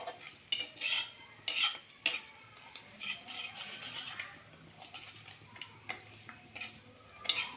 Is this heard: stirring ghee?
yes